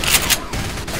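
Rapid gunfire in the zombie shooter game Left 4 Dead 2 comes as a dense, loud close-range burst of a few sharp shots lasting about a second, with no voices.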